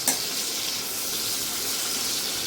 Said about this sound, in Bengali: খুব ভালো করে কড়া করে এটা ভেজে নেবো আমি।